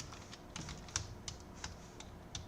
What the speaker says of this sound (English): Come on, am I not good at typing?